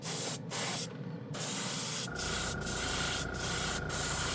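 Tamiya clear paint sprayed from a can onto a model in several hissing bursts, two longer blasts followed by four short, evenly spaced puffs, close and fairly loud with no talk.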